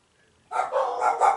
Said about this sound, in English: Utter psycho dogs.